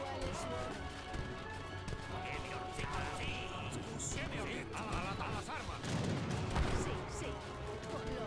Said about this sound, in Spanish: Cuidado con esas ametralladoras